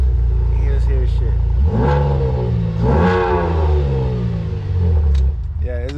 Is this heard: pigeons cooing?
no